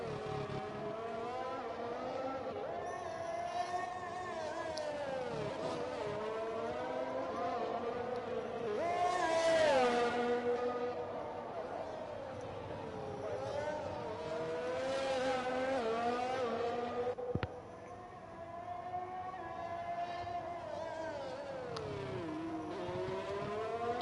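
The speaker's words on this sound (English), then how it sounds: "man who's just started a hot lap now, Lightning Luke." Race car engine on a hot lap around the Azerbaijan circuit in a racing game, with steady high revving that rises and falls through gear changes, continuous and fairly close, while a commentator talks over it.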